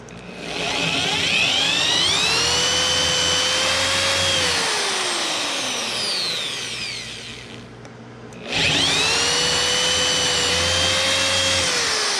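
A power drill whines loudly and steadily while enlarging untapped screw holes in a wooden plant stand during assembly, its pitch dipping and recovering, with a brief pause before a second burst of drilling.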